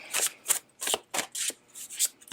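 Tarot cards are shuffled in a series of about eight quick, crisp riffling bursts with short pauses between them, close and fairly soft, with no talk.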